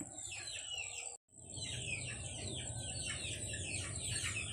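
Many chickens on a farm clucking and squawking together in a continuous flock chorus, with a brief cut in the middle.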